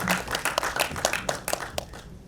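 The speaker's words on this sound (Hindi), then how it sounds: "जोरदार तालियां हो जाएं" Audience applause at a film song launch event, a brisk patter of many hands clapping at moderate loudness, fairly even throughout the short stretch.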